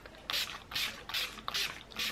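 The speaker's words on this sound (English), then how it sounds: "I'm just going to finish off using some of this collection Primed and Ready mattifying spray." Five quick, hissing bursts of a Collection Primed and Ready mattifying setting spray come in a steady rhythm, close and crisp, with no talking.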